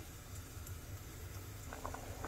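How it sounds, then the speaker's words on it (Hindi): Rice pulao boiling on a high flame, a dense steady bubbling hiss with low simmering rumble and a few sharper pops near the end, close and continuous without talk. "तो पुलाव में हमारे बॉयल आ चुका है।"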